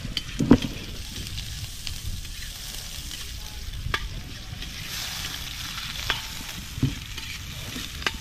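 Ginger, garlic and onion sauté over high heat, giving a steady loud sizzle with occasional sharp pops and stirring scrapes throughout.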